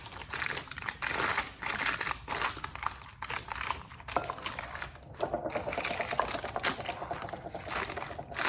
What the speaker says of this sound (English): I'm covering these up with some saran wrap as I put it in the freezer.